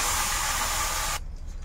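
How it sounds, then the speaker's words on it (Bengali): Water hits a hot wok with a loud, steady hiss of sizzling steam for about a second, then cuts off abruptly, leaving only faint background noise. "এদিকে কড়াই বসিয়েছি, এখন একটু জল দিয়ে দেবো।"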